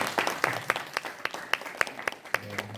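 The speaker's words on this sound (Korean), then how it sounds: "그리고 박수 한 번을 부탁합니다." Church congregation applauding during a Sunday sermon, scattered claps building into steady applause from a large room, moderately loud and fairly close, with no talking.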